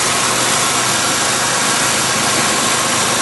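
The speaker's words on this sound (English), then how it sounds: "Compressor running as it should." A car air conditioning compressor runs steadily while the system is being charged with R12, a loud, continuous mechanical hum with engine-like vibration and no pauses.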